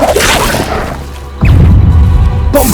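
Confringo spell impact in Hogwarts Legacy, a short whooshing rush followed by a sudden heavy thump and crash, loud and close, with no talking.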